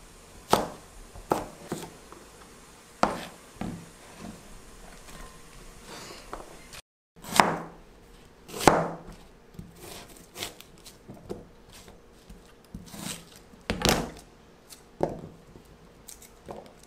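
A knife slices chili peppers into 1 cm rounds on a board, giving sharp separate chopping taps at an uneven pace, close and crisp, with no talk.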